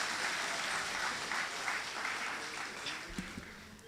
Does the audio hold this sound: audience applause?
yes